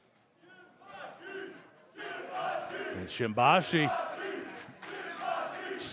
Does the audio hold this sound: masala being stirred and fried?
no